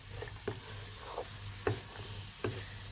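A soft, steady sizzle of food cooking slowly in oil, with a few light taps and stirs breaking through at intervals.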